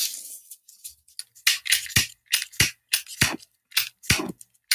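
A lighter that has run out of fluid gives a quick series of dry, sharp clicks from close by. Each strike sparks but does not catch, and no voices are heard.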